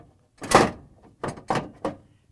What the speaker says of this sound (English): we can install the new ice container in auger assembly by just sliding it in